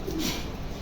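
A pigeon from a pair offered for sale gives a brief soft coo, low and close, over a steady background hum with no talking.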